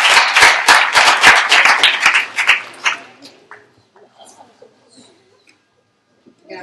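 Audience applause at a conference on heritage preservation, a dense burst of many hands clapping loudly for about three seconds, then tapering off into scattered claps and quiet room noise.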